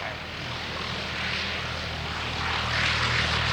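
Propeller aircraft flying slowly and low just after takeoff at an evening air display at Shuttleworth, a steady droning engine buzz with a slight swell in loudness, heard at a moderate distance.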